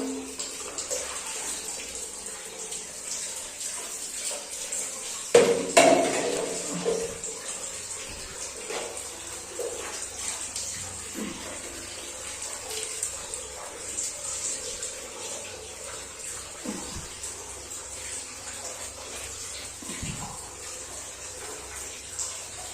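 Water splashes and pours in a bathroom as a young girl is bathed, a strong gush around five seconds followed by softer trickles and splashes under a constant background hiss.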